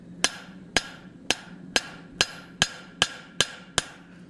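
A rivet is hammered down on the horn of an anvil while forging a flower hook: nine sharp, ringing metallic blows at a steady, even pace, each one close and loud and alone, with no talk.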